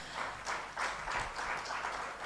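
An audience at a project dissemination workshop claps for a professor, a soft, fairly distant patter of applause coming in uneven waves with no one talking.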